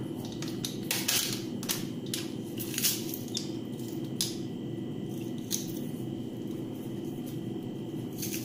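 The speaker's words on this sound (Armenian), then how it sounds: "ճզմում ենք սխտորը" Garlic being crushed in a home kitchen, a series of crisp crunching clicks and snaps at an uneven pace over a soft steady hum, fairly quiet, with no talking.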